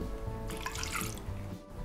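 Water is poured into a mixing bowl holding strained yogurt and eggs for a quick no-yeast pizza dough. It makes a short splashing burst midway against a steady kitchen background.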